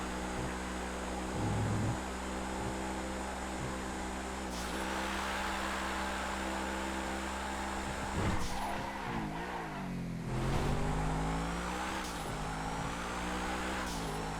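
An Adder supercar driven hard in GTA FiveM, its engine roaring loudly and steadily, with revs climbing and dropping through shifts and a few brief tire scuffs, no voices.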